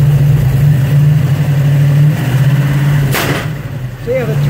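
A 1974 Chrysler 360 engine with a Hall effect distributor and a backfiring fault hums loud and close at a steady rev, with a brief sharp burst partway through.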